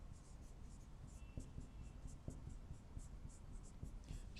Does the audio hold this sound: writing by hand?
yes